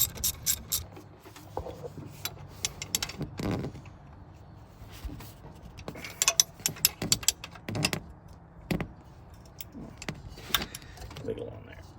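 A nut is tightened on a car exhaust with a ratcheting wrench, giving quiet metallic clicks, rubs and short bursts of turning, close by and irregular, while a person talks.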